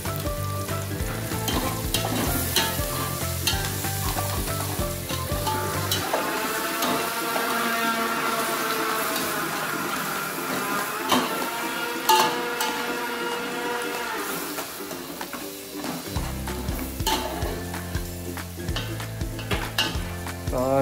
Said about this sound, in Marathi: फोडणी देत आहे.